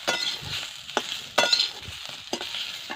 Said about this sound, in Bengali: তো এখানে দেখতে পাচ্ছ আলুটা ফ্রাই করছিলাম, তো লাল হয়ে গেছে আলুটা।